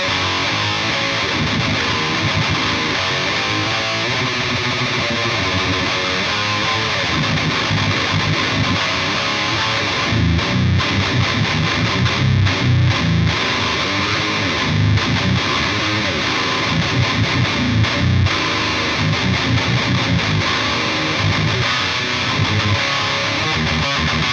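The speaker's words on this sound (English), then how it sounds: "a bit less gain on the amp itself, but it has an extra overdrive in front besides the rat, so still a lot of gain to the tones" High-gain electric guitar through an amp with an overdrive pedal and a RAT distortion in front, a thick, saturated, sustained distorted tone played continuously, with tighter chugging passages in the middle.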